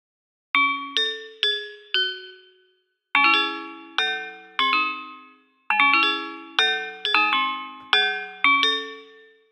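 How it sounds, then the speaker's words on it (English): Cold Nights, an open bell patch from the Arsnal Kontakt library, rings out in bright, shimmering strikes, a few quick notes at a time in short phrases with pauses between, each note decaying gently, with no voices. "You know, just a nice little open bell sound."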